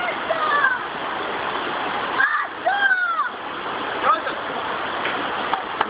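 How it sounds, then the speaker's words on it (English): Children wading across a stream: steady running water with scattered splashes and sloshing steps close by, while kids talk and call out over it. "Caroline, you're stepping in the water"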